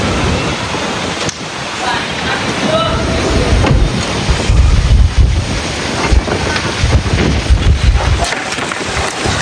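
Strong stormy gusts roar and buffet the microphone loudly and continuously, with heavy low rumble surging through the whole stretch.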